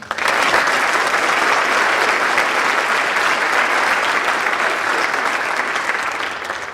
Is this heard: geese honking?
no